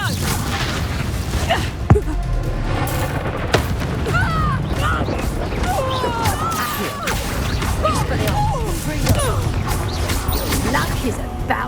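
A Confringo blasting spell explodes in Hogwarts Legacy, a loud booming crash near two seconds with further smaller impacts amid busy game combat noise, magical whooshes and voices speaking throughout.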